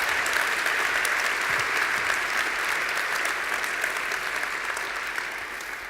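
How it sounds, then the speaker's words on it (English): Sustained applause from a large audience at an award ceremony in Oslo, steady and dense clapping throughout with no voices standing out. "I would like all of you to give a great round of applause to Aurora and Belle"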